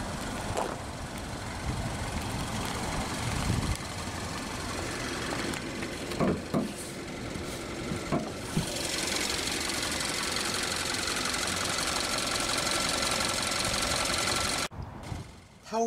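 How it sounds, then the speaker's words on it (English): A 2018 Kia Soul Plus with a 2-liter DOHC 16-valve naturally aspirated inline-4 gasoline direct-injection engine idles, a steady low hum and ticking held evenly close by with a few faint knocks and no talk. "powering the Soul Plus is this 2-liter dual overhead cam, 16-valve, naturally aspirated inline 4 engine with gasoline direct injection"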